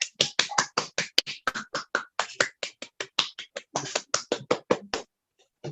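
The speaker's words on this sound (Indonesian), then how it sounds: "Beri tepuk tangan semuanya." Clapping at a live contest event, heard as a loose run of distinct, sharp hand claps, close and fairly loud, stopping abruptly after about five seconds.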